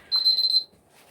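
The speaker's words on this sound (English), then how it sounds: "I'm gonna get my timer ready to start the 10-minute countdown" A kitchen timer set for a 10-minute boil while making homemade chocolate sauce gives one short, bright electronic beep, close and clear, then goes quiet.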